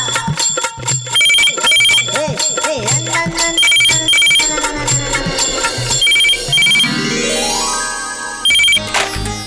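A loud electronic phone ringtone plays a repeating melodic chime pattern, bright and close, continuing for several seconds without talk.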